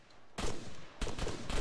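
Gunfire in the ArmA 3 video game, two or three loud bursts of shots in quick succession, close and sharp.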